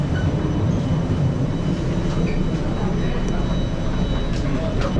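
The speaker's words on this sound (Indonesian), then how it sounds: "Oke, jadi MRT-nya sudah sampai." A Singapore MRT train pulls into Paya Lebar station with a loud, steady roar and rumble filling the platform, and no one speaks.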